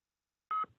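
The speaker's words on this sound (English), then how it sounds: "this is my phone's going" A mobile phone gives a single short electronic beep, faint and isolated against silence.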